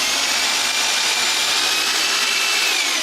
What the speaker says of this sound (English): Now we can drill some holes and mount a board.